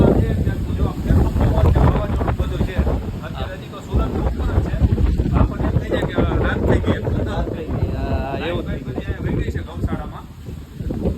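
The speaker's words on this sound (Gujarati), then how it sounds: "આ તમને છે અવાજ પણ નહીં આવતો હોય, કારણ કે ભાઈ પવન જ એટલો હોય" Strong wind buffets the microphone in heavy, rumbling gusts at a cow shelter in Rajkot during a downpour, while someone talks over it.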